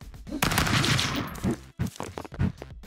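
Rapid bursts of gunfire in the video game Stick Fight, loud and dense, crackle for about a second and then break into shorter irregular shots.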